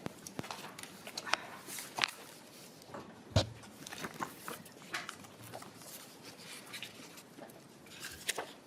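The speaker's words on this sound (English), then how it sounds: "Let me just shuffle my papers here and get things out of the way." Papers are shuffled and moved about on a desk at a legislative committee hearing, giving scattered soft rustles and a few sharper knocks and taps over several seconds.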